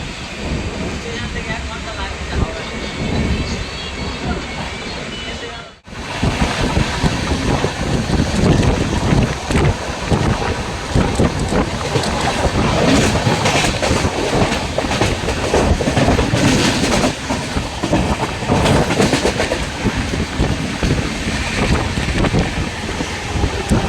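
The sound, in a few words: Howrah-Puri Superfast Express train running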